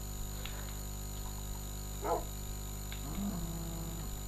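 A few short dog barks in Minecraft, spaced apart and fairly faint, over a constant electrical hum with no talking.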